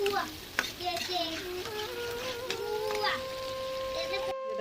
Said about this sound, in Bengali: ভালো করে ভেজে নেবো এভাবে